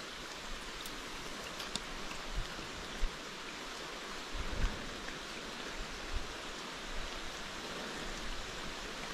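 Steady rain falling outdoors during a fishing trip in a thunderstorm, a soft continuous patter with a few faint drips and knocks, fairly quiet and with no talking.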